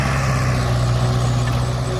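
Sugarcane grab loader truck working in a cane field, a loud steady diesel engine drone with a deep low hum and no clear changes, close by and alone without speech.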